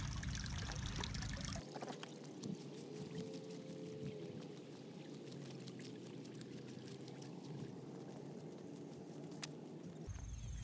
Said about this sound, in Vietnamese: Cái suối này thì cũng nhỏ thôi,